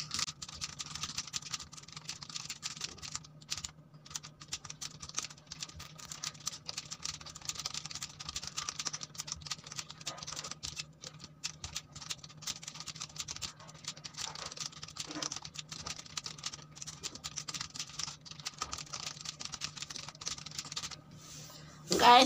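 Soft, steady keyboard typing runs throughout during an online typing speed test, faint and close over a low hum, with no speech.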